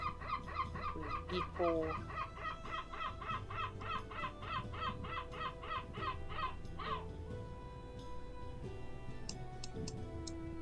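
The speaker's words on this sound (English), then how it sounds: "Seagulls are sure loud here." Loud, rapid repeated bird calls, honking and squawking in a steady rhythm, over a dense layered background with faint tones; seagulls calling close by.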